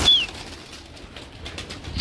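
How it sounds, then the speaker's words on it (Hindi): A brief burst of wing flapping opens the clip, then fainter fluttering and rustling of pigeons taking off nearby, without voices. "उड़ने वाले कबूतर खोल रहे"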